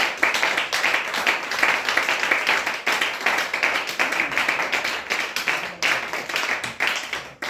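A church congregation claps together in quick, rhythmic unison, loud and close, in steady bursts of sharp claps acclaiming Jesus.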